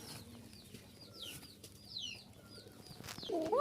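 A pair of Bashiraj kaka pigeons, a male and a female, call nearby: soft low cooing murmurs under brief higher chirps and twitters, with a louder call rising at the end.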